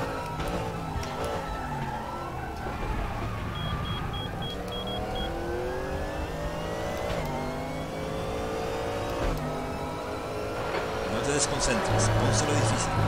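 A GT3 race car in the RaceRoom racing game at the Red Bull Ring circuit drones loudly throughout, its engine pitch climbing and falling through gear changes, while someone talks over it.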